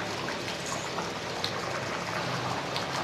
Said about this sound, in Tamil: இது கொதித்து கொஞ்சம் வெந்து வரட்டும்